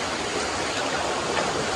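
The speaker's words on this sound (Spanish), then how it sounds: "baja el río, hay como una pocita aquí" A river flows down beside a plaza with a small pool, giving a steady, loud broadband rush of running water that stays even throughout, close by and uninterrupted, with no voices.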